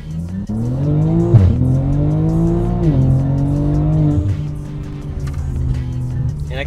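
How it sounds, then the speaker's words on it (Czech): A rear-wheel-drive car launches hard on an open road from 0 to 100 km/h, its engine revving loud and close, rising through several gear shifts with a brief tire squeal at the start. "Ještě si samozřejmě musíme ukázat zrychlení z 0 na 100, takže na to máme ideální silnici"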